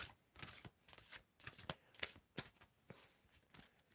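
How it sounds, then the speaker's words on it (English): Tarot cards riffled and shuffled together in a steady run of soft, papery bursts, close and fairly quiet, with no talking over them. "So we want to see when I need to stop shuffling. We are shuffling these together."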